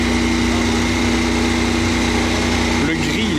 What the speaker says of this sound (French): ça fait un bruit de radiateur la voiture